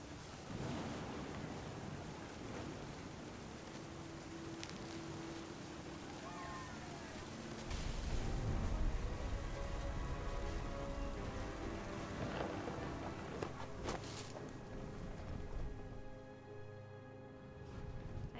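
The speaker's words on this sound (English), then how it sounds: "The thunder sounded much too close and full of angry power." Thunder and rain sound in the video game What Remains of Edith Finch, a steady wash of rain and wind with a deep thunder rumble swelling midway, under a voice talking.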